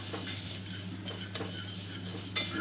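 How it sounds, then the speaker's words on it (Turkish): Tarhana roasting with tomato paste in a pan while being stirred, a continuous low scraping and soft sizzle with a few faint utensil strokes and one brighter clink near the end, close and steady. "Kavurduğumuz salçanın üzerine 3 yemek kaşığı tarhana ilave ediyoruz ve güzelce kavuruyoruz"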